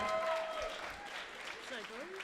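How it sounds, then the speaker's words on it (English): Audience applause for poet Ray Wright at a live poetry jam birthday show, a broad wash of clapping that carries steadily throughout, with a voice talking over it. "So please give Ray a big round of applause while I introduce the right person."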